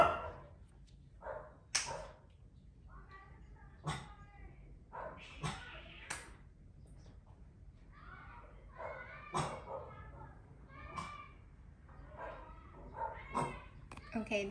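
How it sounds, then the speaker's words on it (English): Several dogs bark in short, sharp bursts in the background, scattered irregularly while a person keeps talking over them. "I'm sorry if you hear my dogs barking in the background."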